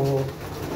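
A racing pigeon hen gives a short, close, soft coo that fades out within a second, with no talking.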